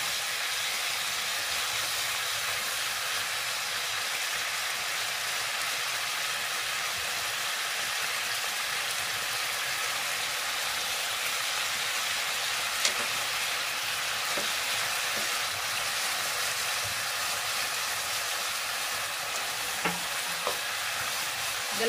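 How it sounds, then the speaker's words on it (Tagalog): Chicken fries in a pan with no oil for a spicy barbecue dish, giving a steady, loud, continuous sizzle and crackle that holds throughout with a few faint clicks near the end and no talking. "I-fried lang natin na walang oil."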